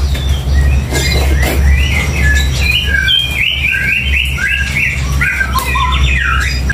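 A cinereous tit chirps repeatedly up close, with quick bright tweets and squawky notes in rapid bursts over a low steady hum in the background.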